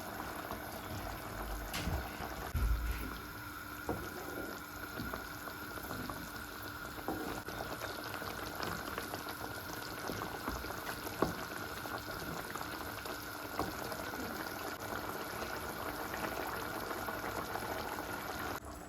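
Chicken curry gravy simmers in a pot at a steady rolling boil, a continuous close bubbling and popping that runs evenly throughout, with no voices.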